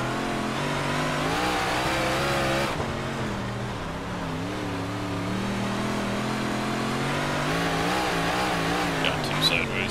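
Big block modified race cars on a dirt track at Kokomo Raceway in the iRacing video game, their engines droning and revving steadily and loud, with pitch swells as the cars push through corners and a voice talking over the engines.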